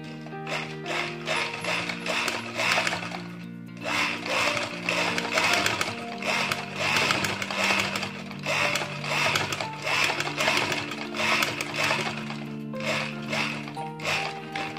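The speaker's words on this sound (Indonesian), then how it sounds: "Nah, kita jahit sesuai tadi yang kita gambar." Sewing machine stitching fabric for an A-line skirt, close and busy, running in bursts of rapid mechanical clatter separated by brief pauses.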